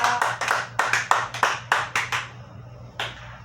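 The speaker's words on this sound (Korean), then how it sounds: "뜨거운 박수로 모십니다." A handful of people at a Christian prayer meeting clap to welcome a pastor, a dozen or so distinct, close hand claps in an uneven rhythm that trail off, with one last clap after a short pause.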